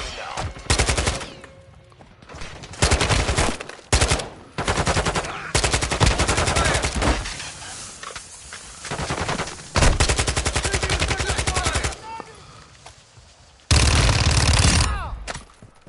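Gunfire in the video game Warzone 2 DMZ mode: repeated loud bursts of rapid automatic fire, some long and sustained, separated by short pauses, close and dominant in the mix.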